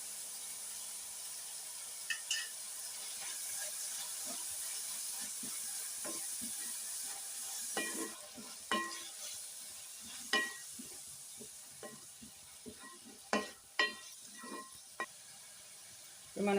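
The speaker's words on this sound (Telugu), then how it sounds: "ఇప్పుడు స్టవ్ మీద కొంచెం ఆయిల్ వేసుకొని వేరే కళాయి పెట్టి ఇందులో ఎగ్స్ అయితే వేసుకున్నామండి." Eggs frying in oil with ginger garlic paste in a kadai on a stove, a steady soft sizzle and hiss with scattered light stirring clicks and scrapes, growing more active toward the end.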